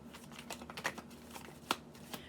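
A deck of tarot cards being shuffled by hand, soft papery riffles and slaps in irregular bursts, quiet and close with no talk.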